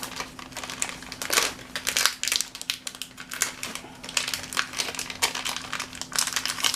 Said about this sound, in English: We're going to open this package up.